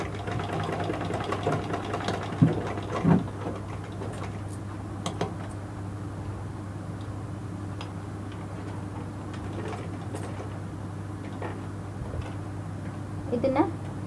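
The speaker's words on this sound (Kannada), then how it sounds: "ಹೊಲಿಗೆ ಹಾಕಬೇಕು." A sewing machine stitches a tie string for a blouse, its ticking, knocking motor sound running under a low steady hum, close by, with brief handling clicks and soft speech nearby.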